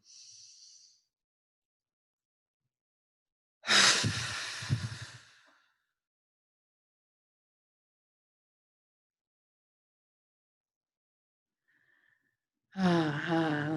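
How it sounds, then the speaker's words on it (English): A single deep breath drawn in during a guided visualization meditation, a close, airy two-second inhale set in near silence, with a fainter breath sound at the start and a louder one at the end. "So take your big breath in."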